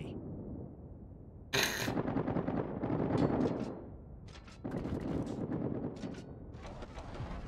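Rapid automatic gunfire from a frigate strafing in the naval video game World of Warships, delivered in two loud sustained bursts of dense crackling shots with a brief pause between them.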